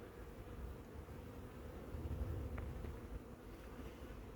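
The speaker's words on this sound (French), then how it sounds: "un frelon ici sur cette ruche. Grosse activité, un frelon qui chasse classiquement" A hornet hunts around a beehive in an apiary, among a profusion of bees. A soft, continuous insect buzz hums over a low outdoor rumble throughout, faint and steady.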